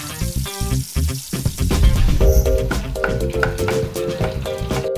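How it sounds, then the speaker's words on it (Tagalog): Fish sizzles and spatters as it fries in hot oil until golden brown, a close, dense crackle with stirring clatter and a few sharp knocks against the pan. "Ipiprito lang ito hanggang sa maging golden brown ang kulay."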